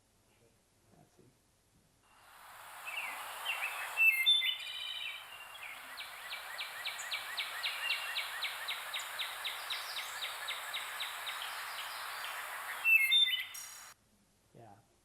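Recorded backyard bird song plays back as a dense run of rapid, repeated chirps and trills, fairly loud and steady for about ten seconds, with a brief voice before and after.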